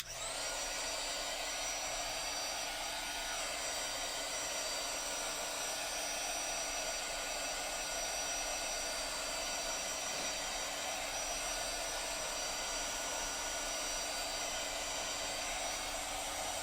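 A hair dryer blows steadily over chalk paste lettering on a wooden pizza board, a loud, continuous whooshing whine that holds unchanged for the whole stretch with no voices.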